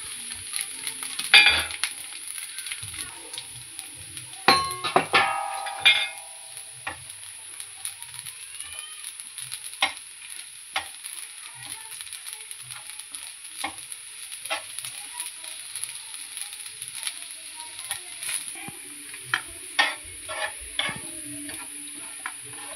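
Kashmiri chillies, coriander seeds, stone flower, poppy seeds, cinnamon and dried coconut dry-roast in a pan for mutton rassa, with faint crackling, ticking and scraping of stirring throughout and a few louder clatters early on.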